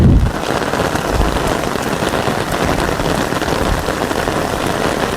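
Heavy monsoon rain pours steadily on a mountain footpath along the pilgrimage trail from Haridwar to Neelkanth Mahadev, a dense, even roar of drops close by with no break and no voices.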